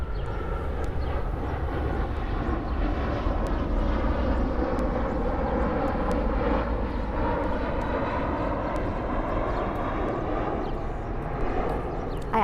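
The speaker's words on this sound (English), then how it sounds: "I actually love these airplane breaks" Airplane flying overhead, a steady broadband engine roar that holds at an even level throughout, with no one talking.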